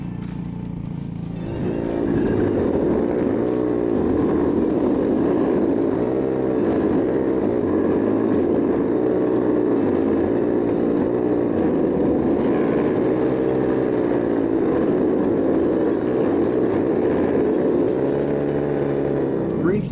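Racing karts run their formation lap, engines droning loudly and close with a rising and falling pitch as they accelerate and ease off, while a voice talks over them.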